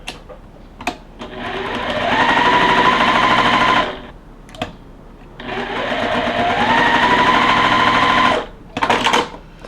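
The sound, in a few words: sewing machine stitching pinwheel quilt block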